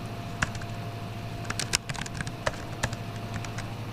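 Scattered keystrokes on a computer keyboard, irregular and hesitant with small bursts of clicks over a low steady hum in a quiet room.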